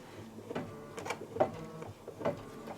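Embroidery machine stitching through two folded layers of face fabric for a Santa table runner, quiet, close irregular clicks and short whirring bursts in an uneven rhythm.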